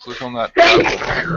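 One sharp sneeze bursts out right after a few spoken words, close and loud in a small room.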